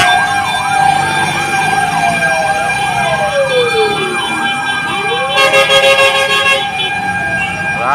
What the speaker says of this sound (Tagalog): Ay grabe, ang daming fire truck dahil may nasunog na naman dito banda sa pier.